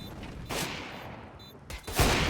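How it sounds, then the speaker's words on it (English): Sniper rifle shots ring out in a Counter-Strike match on the Vertigo map, with two loud broadband bursts about a second apart against steady game ambience. "Wiz narrowly missing the kill there onto CX."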